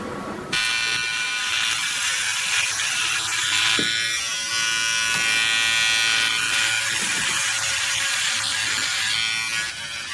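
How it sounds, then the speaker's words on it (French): Electric clippers buzz steadily and loudly as they shave a person's head completely, a continuous close-up motor whine with slight shifts in pitch as the blades move across the scalp, no talking. "J'ai décidé que j'allais me raser la tête complètement."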